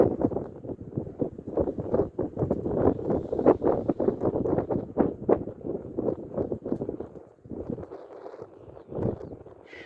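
Strong gusty wind buffets the microphone outdoors during an afternoon of fishing, a loud, rumbling, fluctuating roar that persists almost throughout and eases briefly near the end.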